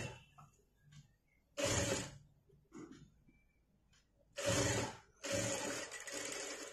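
A sewing machine stitches hook straps in short bursts: a quick run, a longer pause with faint handling noises, then two more runs close together, fairly quiet overall.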